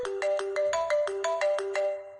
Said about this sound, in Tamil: சரி, எனக்கு ஒரு ஃபோன் வருது,